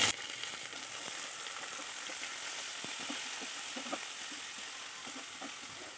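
Mixed vegetables such as capsicum, squash, carrot and peas sizzle in hot oil with fried peanuts while sabudana khichuri is cooked. A steady, fairly quiet frying hiss runs throughout, with occasional soft clicks from stirring.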